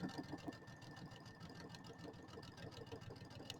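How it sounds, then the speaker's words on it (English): A sewing machine stitches a quarter-inch seam on a pillow, running in a steady mechanical whir with a fast rhythmic needle clatter, close by and fairly quiet. "I'm going to sew over it, doing my full 1/4 inch seam, and then I'm going to back up over it"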